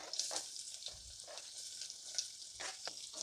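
Onion fries in hot oil with mustard seeds and cumin for Betageri chutney, a faint, steady sizzle with a few soft stirring scrapes, heard close with no talk.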